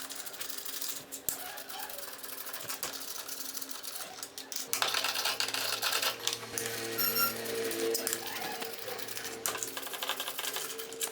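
Ratchet wrench removing 8 mm bolts from a scooter's variator cover, rapid clicking ratchet strokes in quick bursts with metallic rattles, close and fairly quiet.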